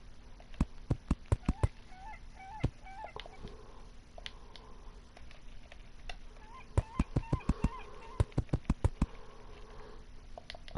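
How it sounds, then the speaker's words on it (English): Seagull cries by the ocean in the video game Terraria, a few short squawking calls alongside a run of sharp clicking taps, all faint and thin. "Seagulls near the ocean."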